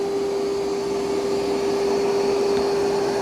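A Yeedi M12 Pro robot vacuum runs on its highest suction setting, giving a loud, continuous whirring drone with a steady whine, close by and uninterrupted.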